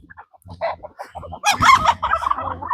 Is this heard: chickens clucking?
yes